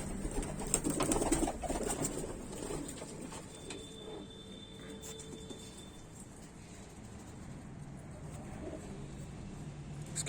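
Kaldume pigeons coo in a loft in Bareilly, with a steady low murmur of cooing and some rustling of wings, fairly close and continuous throughout.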